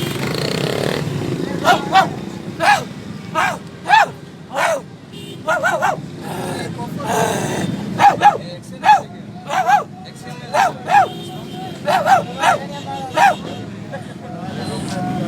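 A man imitates a barking dog among a crowd of onlookers on a street, producing repeated loud bark-like yelps in bursts, with background chatter and passing vehicle noise.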